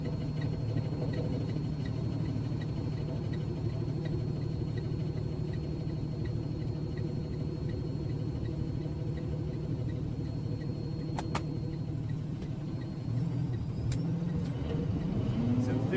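A truck with a 10-speed transmission drives steadily, its engine a loud, continuous low rumble with subtle rpm changes as gears are floated up through the range. A voice talks over it.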